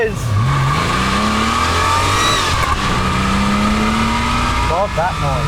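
A loud Porsche 911 993 3.6-litre flat-six engine with aftermarket exhaust revs up and climbs through the gears, its rising growl sustained and close, with tire noise and no voices.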